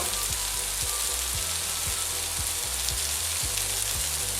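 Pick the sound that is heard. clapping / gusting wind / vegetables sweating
vegetables sweating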